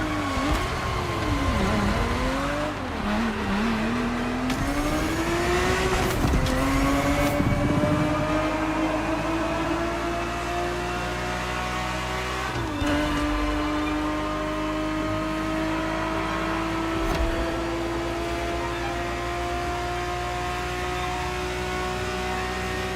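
A Ferrari 365 GTB4 engine in the racing game The Crew Motorfest, a continuous loud drone that climbs and falls as revs swing, then settles into a steadily rising pitch through gear changes, with no voices.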